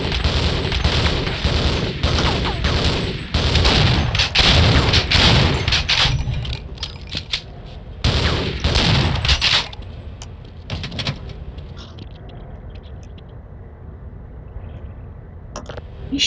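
Gunfire in the video game Half-Life, with loud rapid bursts and heavy booming shots coming in clusters, followed by quieter mechanical game sounds and a few isolated shots.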